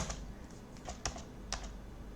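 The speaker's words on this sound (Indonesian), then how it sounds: "Nah, kita enter saja." Keys pressed on a computer keyboard, ending with the Enter key: a few crisp, close clicks spaced unevenly over a low steady room hum, with no talking.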